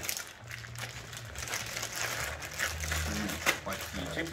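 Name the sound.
opening a packaged box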